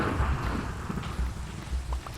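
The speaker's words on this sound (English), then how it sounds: "Digging a big old hole in a thunderstorm." Heavy rain and rumbling thunder from a thunderstorm in Minecraft, a steady close downpour with low booming rolls of thunder underneath, loud throughout the short stretch.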